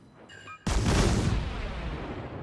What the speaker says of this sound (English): first volley sets him on fire, which is very fortunate